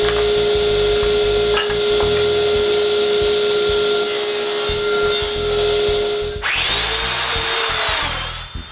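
Power saw cutting wooden frame rails for a nine-drawer chest of drawers: a steady machine whine runs for several seconds, then a louder, harsher cutting burst takes over near the end, with no talking.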